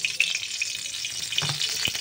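White cooking oil is poured into a pan while a tamarind dish is being prepared, giving a short, steady liquid trickle with faint clatter in a kitchen.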